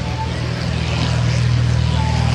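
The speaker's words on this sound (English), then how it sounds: "a beautiful Yak 50 aircraft. Going to take off after warbirds get in the air" A Yak 50 aircraft runs its engine at an airshow before takeoff, a steady, loud propeller drone holding at an even pitch for a couple of seconds without talk.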